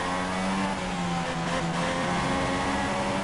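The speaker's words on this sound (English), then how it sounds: "you could just hear him stabbing at the throttle on the pickup" A racing car engine in the F1 2016 video game during a GP2 race in Spain drones continuously and loudly, with the driver stabbing at the throttle so the revs surge and dip.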